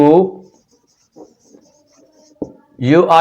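Chalk or marker writing on a board in an English grammar lecture gives brief faint scratchy strokes in the pause between a teacher's speech.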